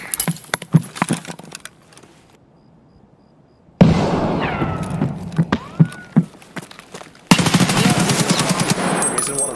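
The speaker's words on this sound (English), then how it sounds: "I'm gonna throw a nade in this bathroom." Grenade detonations and gunfire in a first-person shooter video game set in a bathroom, sharp bursts of loud cracks and metallic rattling, cut by a near-silent gap and then a dense, sustained roar.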